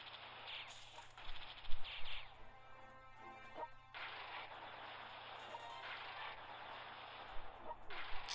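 Rocket artillery fire in the strategy war game World Conqueror 4 comes as dull, distant booms and rumbling bursts spread across the clip over a steady battle noise bed.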